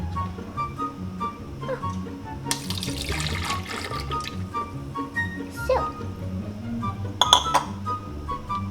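Juice pours and splashes into glassware with clinks of glass, a steady background hum throughout.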